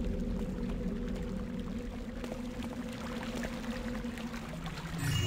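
Fountain water splashes and pours steadily in the Thief video game, a continuous close, even wash of falling water with a low hum underneath and no speech.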